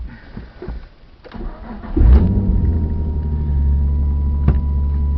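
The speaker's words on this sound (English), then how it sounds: "Cold start, so RPM goes high, as we'd expect." A Nissan 350Z is started cold: a brief crank gives way to the engine catching with a loud surge, then settling into a steady, elevated high idle with a deep, even rumble, close and alone.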